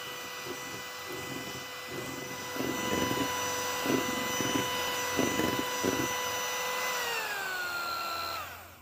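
An electric mixer beats egg yolks with powdered sugar in a steady, high motor whine with pulsing bursts as the beaters work the thickening mixture, then winds down and stops near the end.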